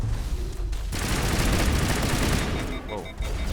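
Heavy bursts of gunfire in Mass Effect come at the player during a firefight near a bunker, a dense rattling fusillade with sharp impacts, close and loud.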